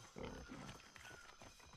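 A pig in a building video game grunts steadily through a short stretch, with low, rough snorting that fills the whole moment at moderate level and no talk over it.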